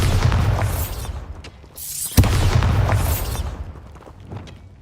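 Bombarda explosion spell in Hogwarts Legacy, heavy booming blasts with a sharp burst near the middle and rumbling low-end tails, loud and close amid game effects.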